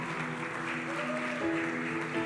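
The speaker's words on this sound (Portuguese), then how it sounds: "Vamos aplaudir a Ele bem alto." A church congregation applauds, a soft, continuous patter of clapping heard at a distance beneath sustained musical tones.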